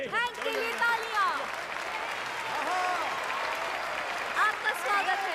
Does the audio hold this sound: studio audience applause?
yes